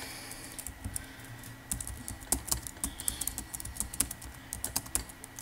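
Rapid clicking of a computer keyboard as someone types a chat message in Minecraft, close and crisp, in uneven bursts of keystrokes.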